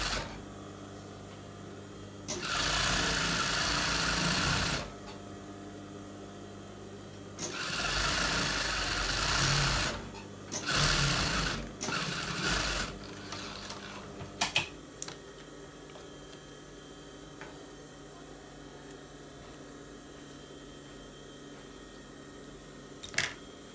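A sewing machine stitches a bra in several short bursts, running loud and close for a few seconds at a time, then stopping with a few clicks and handling noises between runs, no voices.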